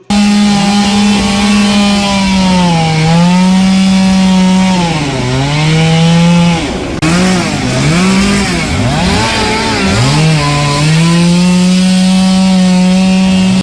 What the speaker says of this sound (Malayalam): അടിമാലി ഫയർഫോഴ്സ് എത്തി മരം മുറിച്ചു നീക്കി